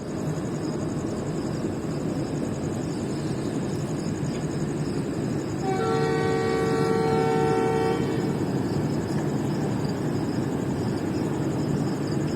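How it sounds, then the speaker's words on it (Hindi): Khyber Mail express pulling out of Nawabshah railway station in Pakistan: a steady, loud rolling rumble throughout, with a sustained horn blast of about two seconds partway through. "आप देख सकते हैं कि हमारी ट्रेन नवाबशाह रेलवे स्टेशन से निकल रही है।"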